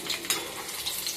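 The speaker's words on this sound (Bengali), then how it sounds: "লো ফ্লেমে এটা আস্তে আস্তে ভাজতে হবে।" A bread roll filled with chicken and cheese fries slowly in oil over low flame, a brief, even, soft sizzle heard up close with a small pop.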